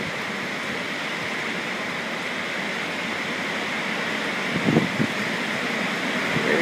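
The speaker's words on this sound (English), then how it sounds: "Those waves crashing." Continuous roar of surf washing onto a shore, a broad steady rush with a slight swell near the end, no voices.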